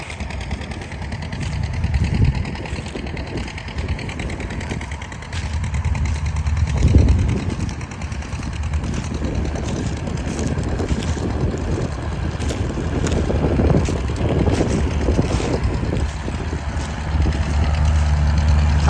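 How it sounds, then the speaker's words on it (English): An old Oliver tractor engine runs steadily while plowing a field, a continuous low rumble with some wind buffeting the microphone throughout, no talking. "And old Oliver's running down the row again."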